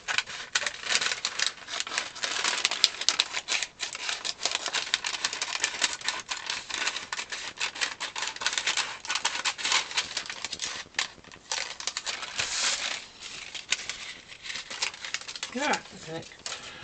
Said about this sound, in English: It's quite hard cutting out tracing paper.